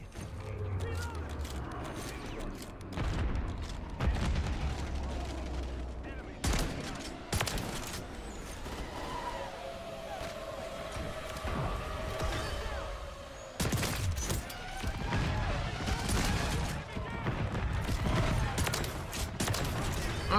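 Shotgun fire in Call of Duty MW3, with a Reclaimer 18 in use: a series of loud, sharp blasts spaced irregularly and mixed with mechanical clacks and reload rattles. Someone talks over much of it.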